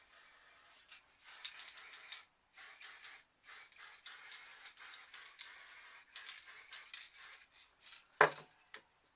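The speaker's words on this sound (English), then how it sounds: "Just do a light spray of black on here and there." Bursts of black spray paint hissing from an aerosol can in a spray paint art session, a series of short light sprays with brief gaps, close and alone, ending with a sharp louder rattle or knock.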